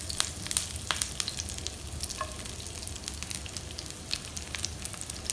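Curry leaves hit hot coconut oil with popped mustard seeds while an egg curry is being made, giving a loud continuous sizzle sprinkled with sharp crackles and spits, no voices.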